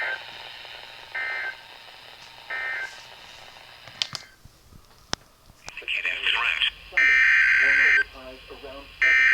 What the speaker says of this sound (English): This is the routine Wednesday morning test of the NOAA Weather Radio Warning Alarm System.